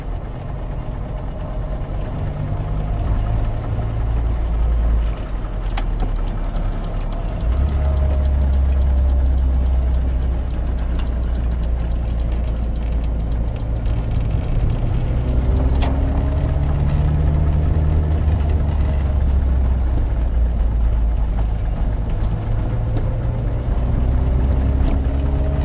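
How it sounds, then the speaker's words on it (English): A car on a test drive on very cheap tires, with a bad rear wheel bearing, gives a steady low droning hum and rumble that swells and shifts in pitch with speed. Heard from inside the car with no talking. "One more bad wheel bearing. Sounds like it could be the rear one."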